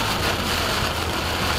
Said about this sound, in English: The rain's actually not that hard.